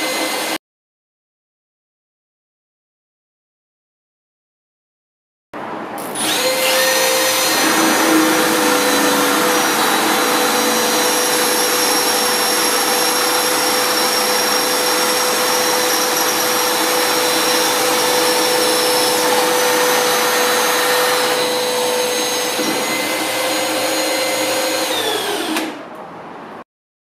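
A cordless brushless drill bores into wood, a steady loud whirring drone held for about twenty seconds before winding down, with no talk over it.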